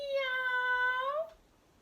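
Children at an early-years school singing assembly imitate a kitten's meow with one sustained, sung, cat-like vocal note lasting just over a second, then the sound stops.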